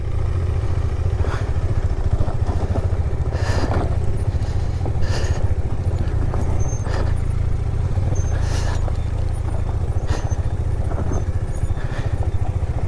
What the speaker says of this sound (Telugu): స్కిడ్ అవుతున్నాడు అండి బైక్స్ అన్నీ.